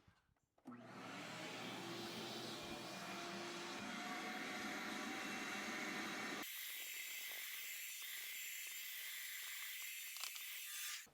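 A vacuum cleaner switches on and runs over fabric car upholstery with a loud steady whine, its tone changing abruptly partway as the nozzle moves, then winding down at the end.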